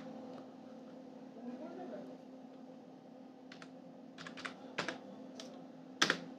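A computer keyboard clacks as a name is typed in capitals, with sparse, uneven keystrokes that grow into a quick cluster of sharper taps near the end over a faint steady hum.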